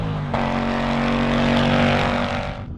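Ford Mustang Dark Horse on sticky tyres with lightweight wheels, engine droning loud and steady while driving, the note rising and swelling as it accelerates, then tapering off near the end, with no voices.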